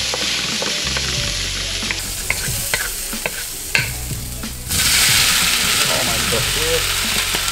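Minced garlic fries in sesame oil with a bright, constant sizzle and clattering wooden-spoon stirring, close up, the hiss swelling louder partway through.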